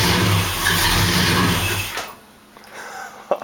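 A 1968 Dodge Charger's engine roars loudly during a cold start, then cuts off abruptly and leaves quieter background noise with a couple of brief knocks.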